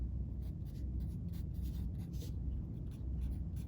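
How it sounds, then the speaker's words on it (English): A pen or pencil scratches steadily across paper while numbers are written, making a close, continuous rasping with small rhythmic strokes and no talk. "Now, step 2 is we're going to write the numbers next to them."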